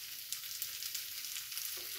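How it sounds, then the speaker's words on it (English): Hot oil sizzles and crackles steadily in a pan while frying omena, small fish, a soft continuous frying hiss with small pops, heard up close with no talking. "Can you hear the sizzling sound?"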